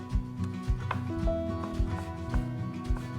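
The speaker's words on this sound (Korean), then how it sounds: "너무 곱게 다지지 말고 약간 입자가 있게 썰어 주시는 게 좋아요" Knife chopping mushrooms on a cutting board for gang doenjang, coarse rather than fine, in irregular close taps and thuds with a faint background hum.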